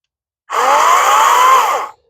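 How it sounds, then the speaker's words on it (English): Wild Badger 16-inch chainsaw cutting through wood for fuel outdoors, one steady high-revving buzz of about a second and a half with no talk, close and loud. "So you can see this is going to be easy work for a chainsaw like this."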